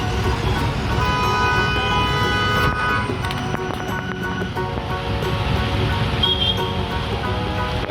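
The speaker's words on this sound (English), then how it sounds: "Here comes the cement truck." A cement truck moves through congested roadside traffic at a concrete road construction site, its engine rumble blending with steady traffic noise, car horns tooting and a brief high squeal near the end.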